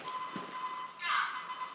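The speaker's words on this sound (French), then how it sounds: "Donc on a un écran digital qui bip, qui parle, qui marque la distance." A car's rear parking sensor display gives a steady electronic tone that swells briefly, close and moderately loud, with faint background noise.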